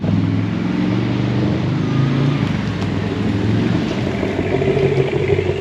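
A car engine runs steadily close by, a continuous rumbling drone with slight variations that fits a vehicle pulling up and idling, with no talking.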